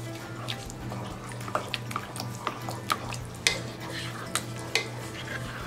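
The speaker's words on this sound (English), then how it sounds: "Let me mix this." Spoon stirring cream into a thick mixture in a kitchen pot, heard as a steady series of light scrapes and clinks against the pot, each up close over a low steady hum.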